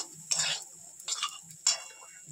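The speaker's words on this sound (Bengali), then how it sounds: "এবার এটাকে আমরা ভালোভাবে নেড়ে নেব, কিছুক্ষণ মতো নেড়ে নেব।" Cumin, coriander and chilli powder stirred in a pan for a vegetarian cabbage dalna: three short scraping strokes of a spoon against the pan with quiet pauses between them, close by.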